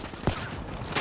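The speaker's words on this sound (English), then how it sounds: "That shot was right on us." Gunfire in the video game Black Ops 3 during a team deathmatch, a burst of sharp shots over a dense steady game soundscape, with one strong crack standing out.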